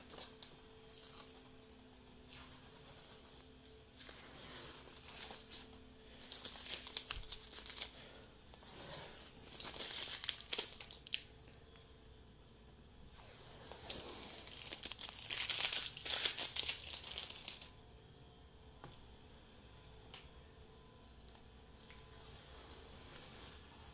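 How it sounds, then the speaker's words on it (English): Masking tape peeled and crinkled off the frame of a glass dry erase board, a series of soft tearing and crumpling bursts at close range, alone with no talk. "so now we're just going to remove the tape"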